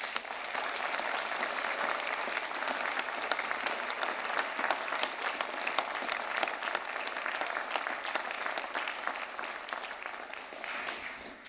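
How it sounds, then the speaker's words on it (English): Graduands at a University of Aberdeen winter graduation ceremony applaud together, a broad, even wash of clapping from a large hall crowd that holds steady throughout. "Graduands, please raise a round of applause for your family and the supporters who helped you get to this point today."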